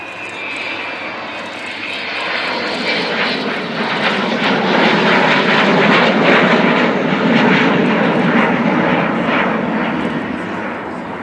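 Avro Vulcan XH558, a 1960 jet bomber, flying at the RAF Cosford Airshow, its engines a loud, broad roar that swells and holds close overhead before easing slightly.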